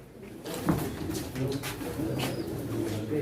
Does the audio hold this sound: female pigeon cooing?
yes